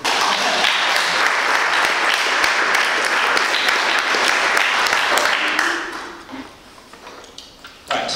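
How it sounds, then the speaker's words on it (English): Keynote audience at a CakePHP conference bursts into loud, dense applause for about six seconds, then it fades to a quiet room before a sharp noise at the end. "You can clap now."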